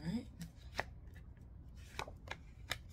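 Tarot cards shuffled and pulled from a deck, several soft crisp slaps and flicks spaced across a few seconds, close and quiet, with a voice speaking briefly at the start.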